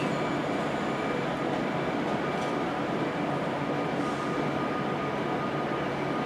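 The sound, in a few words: train at London Euston station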